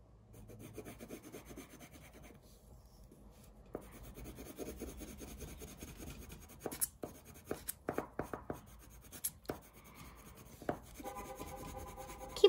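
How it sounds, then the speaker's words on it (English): Paper is bent and creased for Easter crafts, giving faint rubbing, scraping and rustling close by, with a cluster of sharper crinkles and creases toward the end. "Keep on bending the paper"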